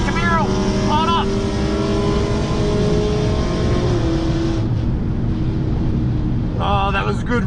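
A hybrid-turbo Honda Civic Type R FK8 races a Camaro down a quarter-mile drag strip, its engine a loud, steady roar that holds throughout, with people shouting and talking over it.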